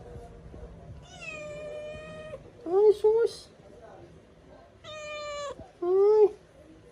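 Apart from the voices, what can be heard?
black and white cat meowing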